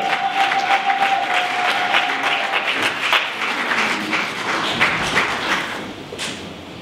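Church congregation at an evangelical service clapping together, a dense, sustained burst of many hands that holds fairly loud and slowly thins toward the end, with a brief faint tone near the start.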